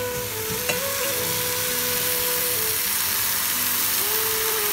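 Cauliflower frying and being stirred in a pan, giving a steady soft sizzle with faint scraping of the utensil and short tonal whines in the background, fairly quiet, with no voices.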